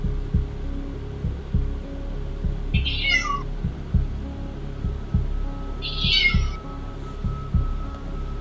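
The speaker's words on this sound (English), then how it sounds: "he could still hear his cat meowing at the door for hours" A cat meows twice at a door, a few seconds apart, over a steady low rhythmic thumping and hum.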